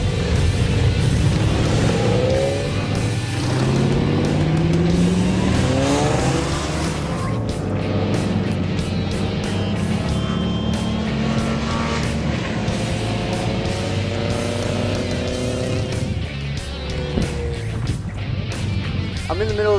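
A Nissan 350Z sports car on a race track during a pacing lap, its engine droning loud and steady with rising and falling revs and some tire noise, heard close throughout.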